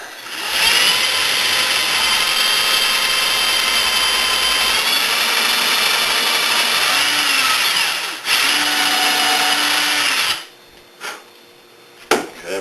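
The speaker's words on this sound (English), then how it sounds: "Get ready and drill your holes." A power drill whines loudly and steadily for several seconds while drilling holes in a wooden soap mold, briefly pauses, runs again, then stops with a few short bursts near the end.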